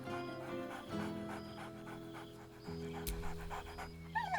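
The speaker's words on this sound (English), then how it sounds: "Scratch barks merrily in something like agreement." A dog in the video game Baldur's Gate 3 pants steadily over a low, sustained musical drone, with a couple of brief bark-like yelps near the end.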